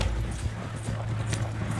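Horses trotting in Red Dead Redemption 2, hooves clip-clopping in a quick steady rhythm over a low rumbling background, moderately close and continuous throughout.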